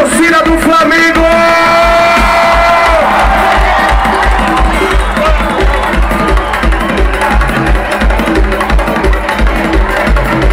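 At a concert at the Miracema-RJ exposition, Flamengo supporters in the crowd cheer and chant loudly over booming live music, a dense continuous roar.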